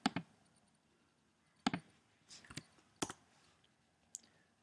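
Several sharp, isolated clicks of a computer mouse while saving an image file in Photoshop, spaced irregularly with short pauses between, close and fairly quiet with no talking.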